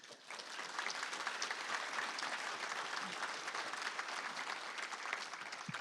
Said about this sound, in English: I want y'all to join me in giving them a round of applause.